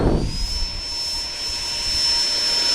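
A Freewing F-18 90mm RC electric ducted-fan jet spools up for a takeoff from grass, its high steady whine rising quickly and then holding loud and close over a faint rushing background.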